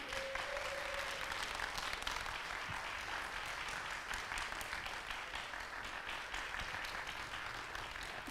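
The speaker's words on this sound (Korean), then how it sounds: "정호승 시인을 뜨거운 박수로 맞이해 주시죠." An audience at a Korean poetry talk applauds to welcome a poet onto the stage, a continuous, fairly faint patter of many hands heard from a distance, sustained evenly throughout.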